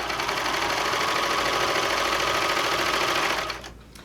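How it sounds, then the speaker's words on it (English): A serger sewing machine runs steadily, stitching through two scraps of cotton with a continuous, fast mechanical whir that holds loud and even for about three and a half seconds, then cuts off abruptly. "I'm just taking 2 scraps of cotton because that's what I'm going to be sewing on"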